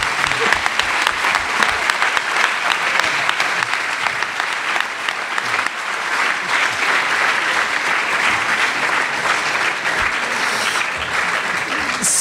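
A conference audience applauds an agroecology speaker, sustained dense clapping filling the room from start to finish with a faint voice now and then.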